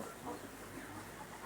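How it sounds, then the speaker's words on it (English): Chickens cluck softly and steadily at a small backyard poultry farm, a low continuous flock murmur with no clear individual calls standing out. "I'm gonna show you where I keep my chickens."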